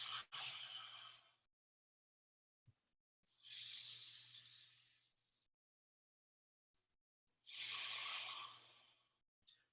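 Three slow, deep breaths taken close to the microphone during a Shaolin breathing exercise aimed at the solar plexus, each a long airy inhale or exhale separated by silence.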